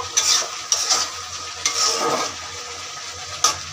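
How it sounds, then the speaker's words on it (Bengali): Potatoes fry in a pan with a continuous close sizzle, broken by a few sharp scraping bursts as they are stirred. "তো দেখো একদিকে হচ্ছে আলু ভাজা হচ্ছে"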